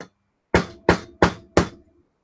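Four hard blows of a brass-tipped hammer striking a 3D printed plastic test piece, evenly spaced and loud, each a sharp crack with a short ring, after a brief quiet lead-in.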